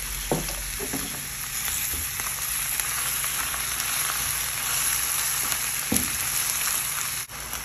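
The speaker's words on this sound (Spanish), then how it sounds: "de este lado estaré también sofriendo 2 jitomates" Two cut tomatoes sautéing in a pan with onion and garlic, a steady close sizzle with occasional sharper pops and utensil knocks, no voices over it.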